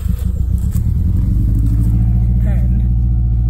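A Subaru Impreza engine running with a misfire gives a steady, loud, close-up low rumble that holds throughout.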